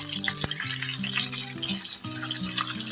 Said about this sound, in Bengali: তারপরে ডিমগুলি আমি ভালো করে ভেজে নিব, হালকা একটু ভেজে নেব